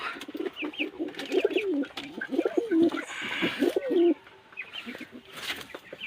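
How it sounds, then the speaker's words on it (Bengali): Giribaz pigeons coo repeatedly in low, throaty rolling phrases, close by and overlapping, with a few faint chirps and some background rustle. "ভেতরে গিরিবাজ পায়রাগুলো আছে"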